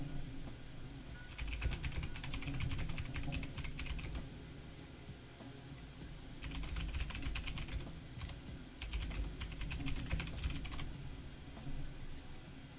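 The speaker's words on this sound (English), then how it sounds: "I'm typing it to you now" Fast bursts of typing on a computer keyboard, with clustered key clicks arriving in several rapid runs separated by short pauses, fairly quiet and with no talking.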